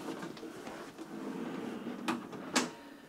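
A drawer sliding open or shut inside a new widebeam boat, a soft scraping slide followed by two sharper knocks near the end, fairly close and moderately quiet.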